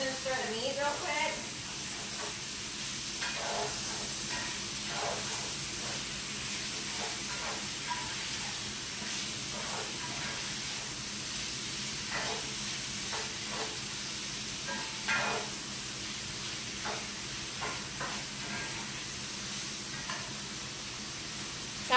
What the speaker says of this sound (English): I was just stirring the meat, gave it a quick stir.